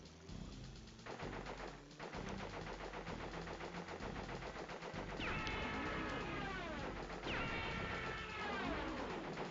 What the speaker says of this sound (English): The goal is to shoot down all the blimps